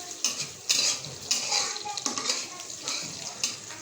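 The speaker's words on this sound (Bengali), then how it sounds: "যতক্ষণ আমার পেঁয়াজটা লাল না হচ্ছে ততক্ষণ আমি ভাজতে থাকবো" Onions frying in a pan for a fish curry with Malabar spinach and potatoes, with a steady sizzle under repeated metal scrapes and clinks of a spoon stirring against the pan, close and moderately loud.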